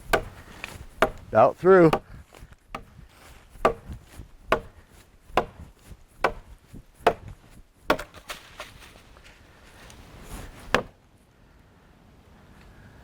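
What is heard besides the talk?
butcher knife chopping down a tree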